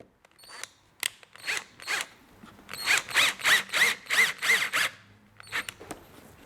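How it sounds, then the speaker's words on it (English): A power driver sinks four screws into wood to clamp a glued laundry basket repair, heard as a run of short whirring bursts with a rising whine, close and fairly loud, with no talk. "I'm just going to put 4 screws in just to hold it down while the glue dries"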